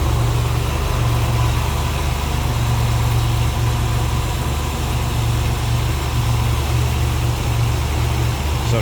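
A 1969 Chevrolet Camaro RS/SS with a 502 crate engine and manual transmission idles steadily, a deep, even low rumble heard up close with no talking.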